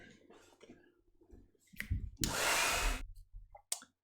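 Hair dryer blowing across wet watercolor paint on a holiday card, a steady broadband whoosh lasting under a second amid light clicks and handling noises.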